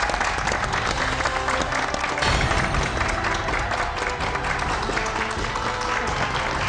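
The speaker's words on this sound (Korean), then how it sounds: "여러분 박수로 환영해 주십시오." Studio audience applause welcoming a guest on a Korean TV health talk show, a dense continuous clapping that stays loud and steady throughout, with a faint murmur of voices beneath.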